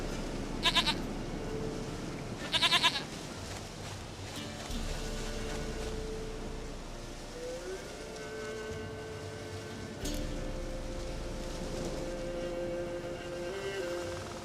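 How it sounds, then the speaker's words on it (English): Goat bleating in the video game The Witcher 3, two short wavering bleats near the start over a steady droning game ambience and low music, with no speech. "Goat of mine, dearest, sweetest goat."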